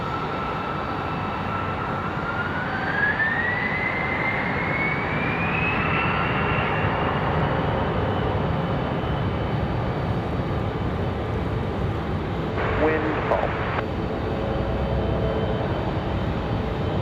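JetBlue airliner engines at Raleigh Durham airport, a steady loud roar with a rising whine as the turbines spool, continuous and without talk.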